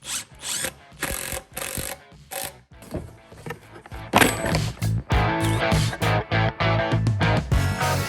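A Milwaukee M12 cordless power tool runs in short, repeated bursts of whirring and ratcheting, near and fairly loud, with brief pauses between each run while building a backyard grill cart.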